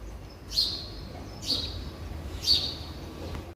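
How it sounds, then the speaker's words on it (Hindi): Small birds chirping outside a home, three bright, sharp tweets spaced about a second apart over a quiet background, moderately near and fairly soft, with no talking. "चिड़िया देखो कैसे चहचहा रही है"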